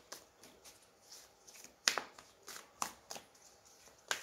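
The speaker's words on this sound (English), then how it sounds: "Let me pull out the cards for week 1." A deck of tarot cards is shuffled and pulled by hand, giving a close series of crisp flicks and papery snaps in an irregular rhythm, quiet between bursts, with no talking.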